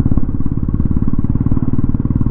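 Royal Enfield Bullet Classic 350 BS6 motorcycle exhaust thumping loud and close in a steady, rapid low-pitched pulse, bass-heavy with little high pitch, running alone without voices.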